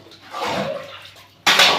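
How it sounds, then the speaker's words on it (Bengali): Water runs and splashes over dry, dirty dishes left to soak in a kitchen, a soft pouring wash that swells, fades, then gives way to a sharp, brighter splash near the end. "বাসন তো শুকনো হয়ে গেছে জলে ভিজাতে হবে"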